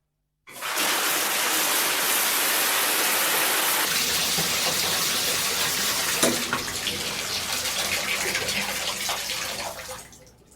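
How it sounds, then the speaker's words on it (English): Steady shower water pours in a continuous loud hiss from start to finish, softening slightly partway through before cutting off near the end. "another friend advised me to take a cold shower."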